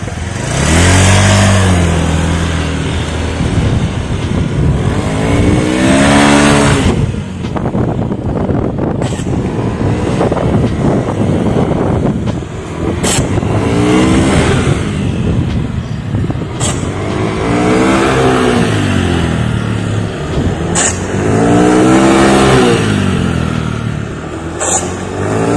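A scooter engine on an automatic motorcycle revs hard with the throttle in repeated surges, pitch sweeping up and falling back several times, loud and close amid wind noise.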